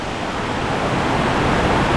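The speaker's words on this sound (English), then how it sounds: "Ravana Waterfalls." Ravana Waterfalls in Sri Lanka roar as a steady, loud broadband rush of falling water, continuous and unbroken for two seconds with no voices.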